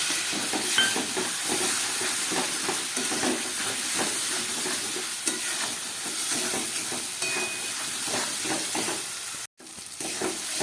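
Spice paste with chilli powder fries in a pan after a splash of spice-rinse water, sending up a loud, steady sizzle and hiss from start to finish, with faint stirring underneath and one brief cut near the end. No one talks.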